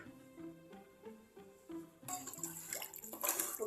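Water poured into a pot of bagara rice, one and a half cups per glass of rice, a soft running splash that swells louder midway and continues close up with no talking.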